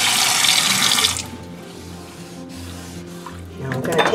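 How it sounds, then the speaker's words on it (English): A kitchen sink rinsed under running tap water, a loud close hiss of the faucet stream for about a second, then quieter sloshing and dripping in the basin before the water rushes again at the end. "Taking my dishcloth, and I'm just gonna rinse everything really well."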